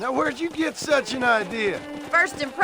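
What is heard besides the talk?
No everyday noise stands out behind the speech.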